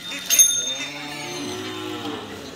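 A cow lets out a single long, loud moo close by during vaccination at a veterinary hospital, with a brief clatter near the start.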